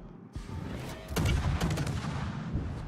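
Naval ship guns boom in World of Warships during a match around an island, a dense rumbling barrage of heavy blasts building after a short pause and rolling on steadily.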